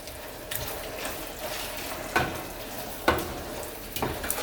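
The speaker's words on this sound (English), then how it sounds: "So I'm just going to keep stirring it." Shrimp are stirred through a pan of fideo vermicelli noodles, with a steady close sizzle and periodic scraping knocks of the spoon against the pan.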